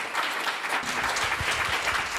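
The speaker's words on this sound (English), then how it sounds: "A round of applause for our lines." An event audience at AMC Edinburgh breaks into brisk, close applause, many hands clapping continuously in a busy, lively burst that carries on evenly throughout.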